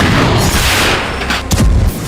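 A heavy, rumbling blast from an attack on a Ukrainian airbase roars across the whole clip, loud and dense, with a sharper crack and deep thud following near the end.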